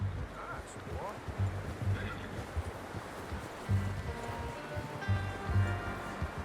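A horse in Red Dead Redemption 2 moving with soft hoof clops and snorts against outdoor ambience, while people talk over it.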